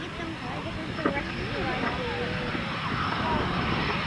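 A small airshow airplane at the 1993 Chatham, Ontario Kinsmen Airshow, its engine a broad, steady roar that swells slightly toward the end, with faint crowd murmur underneath.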